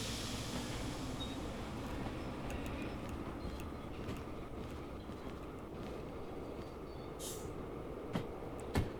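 A locomotive rolls along in the train game Derail Valley with a steady, dense rumble of motion and track noise, plus a few brief clicks near the end.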